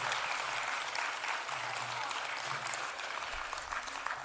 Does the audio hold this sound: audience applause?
yes